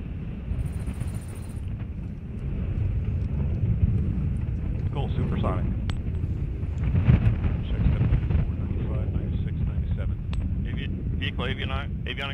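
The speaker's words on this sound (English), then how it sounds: "Ignition and liftoff of the Minotaur IV rocket carrying the ORS-5 spacecraft for the United States Air Force." A Minotaur IV rocket carrying the ORS-5 spacecraft ignites and lifts off from Cape Canaveral, giving a continuous broad roar and rumble that swells slightly and stays steady throughout. Launch commentary voices seem to run under it.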